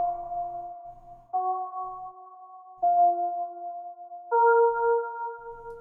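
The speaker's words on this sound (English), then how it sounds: "Next thing, I added this pad from Vital." Soft synth pad from the Vital synthesizer playing four sustained chords, each held for over a second with a gentle bell-like tone, clean and alone on a quiet background.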